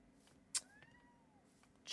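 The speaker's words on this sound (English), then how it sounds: "I could hear the cats a lot louder" Cats meowing indoors during a gaming livestream: a faint, drawn-out meow with a falling pitch, set against a quiet room hum with a few soft clicks, no talking.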